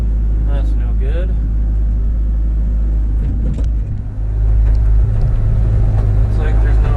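A Camaro left sitting in the hills cranks over without catching, its starter and engine rumble steady and close for several seconds with a brief dip midway, while a voice talks over it.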